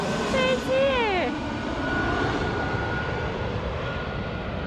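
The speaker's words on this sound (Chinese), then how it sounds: "这是飞机！" A low-flying airplane passes overhead near a garden in Taipei, a loud, sustained engine roar that slowly fades, with a person exclaiming at the start.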